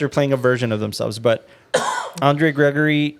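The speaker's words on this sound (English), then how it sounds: "That's a cough." A single short cough breaks into podcast conversation, with talk before and after it.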